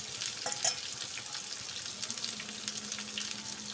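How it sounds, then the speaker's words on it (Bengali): Coarsely chopped onion fries in hot oil for a vegetable khichuri, giving a steady close sizzle and crackle with a few brief stirring scrapes, and no talk. "তো পেঁয়াজটা দিয়ে আমি খুব ভালো করে লাল লাল করে ভেজে নেব"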